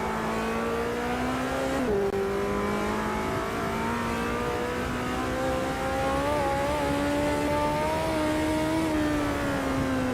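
A high-revving race car engine in the racing game Automobilista 2 drones steadily and loudly, pitch climbing in smooth sweeps with a brief dip as it shifts gear, no voices.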